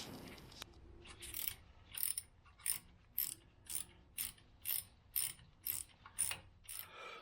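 A hand ratchet clicks steadily while backing out the ABS sensor screw on a Jeep JKU Dana 44 axle, about a dozen evenly spaced, crisp ratcheting bursts close up with no talking.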